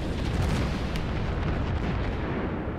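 Naval gunfire shells striking a target in World of Warships, a continuous heavy rumbling roar of impacts and explosions, loud and dense with no voices.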